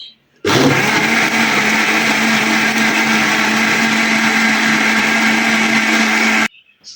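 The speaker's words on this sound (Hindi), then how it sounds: "अब इसको ज़रा सा ग्राइंड करेंगे।" An electric blender grinds watermelon with black salt for juice, a loud, steady, close whirring drone that starts abruptly and runs for about six seconds before cutting off, with no talking.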